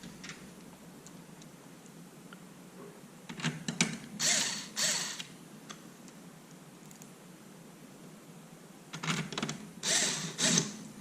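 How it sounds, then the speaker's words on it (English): A cordless power driver set to a low torque setting drives screws into a Dell PowerEdge server chassis, giving two short bursts of whirring and clicking a few seconds apart, close by, with a quiet room between them. "I got my power driver, and I'm going to set it on a pretty low torque setting"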